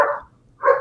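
A dog gives two short, loud barks close by, separated by a brief silence.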